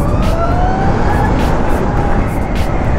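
Harley-Davidson LiveWire electric motorcycle riding past with a loud rushing roar of wind and road noise under a thin rising motor whine.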